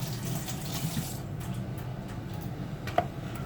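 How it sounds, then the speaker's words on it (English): Cabbage rinsed under a running tap in a sink, a steady close splash of water, with a small clink near the end. "make sure you rinse it off really well"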